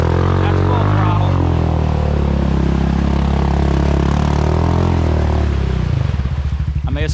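Honda Rancher ATV engine at full throttle, a loud close steady roar with a deep throbbing drone, breaking into choppy sputtering pulses near the end; a voice speaks briefly over it.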